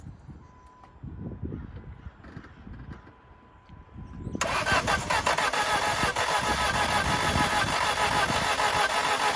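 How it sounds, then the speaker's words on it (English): A Saturn SC2 car engine cranks and tries to start: a quiet stretch gives way to a sudden loud, steady mechanical roar that holds to the end. "Got a little crank, so that's good."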